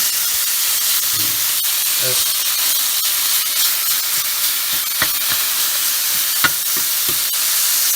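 Ground grass-fed beef sizzles steadily in a hot pan as it is broken into small pieces, with scattered scraping clicks of the utensil over a constant frying hiss, close and fairly loud.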